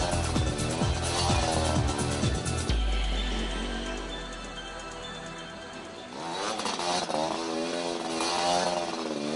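A stunt motorcycle's engine revs hard during street stunts performed by a Mumbai bike team, rising and falling in loud repeated surges with a quieter dip in the middle before climbing again.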